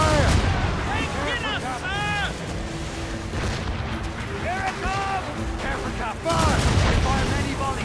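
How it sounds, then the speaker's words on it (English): Ship cannon volleys in Assassin's Creed Rogue: repeated booming shots and rumbling blasts in rapid succession, with shouting voices and musical tones mixed in over a continuous battle din. "Fire many volleys!"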